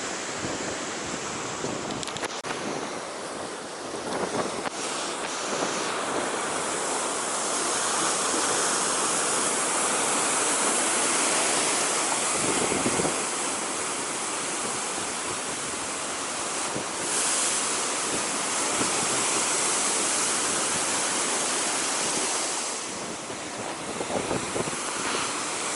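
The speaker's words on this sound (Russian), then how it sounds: "Видишь, какое оно сегодня бурное море." Rough, stormy sea surf breaking on the shore at Zelenogradsk in cold spring weather, a continuous loud roar of crashing waves with gusty wind noise on the microphone, no talking.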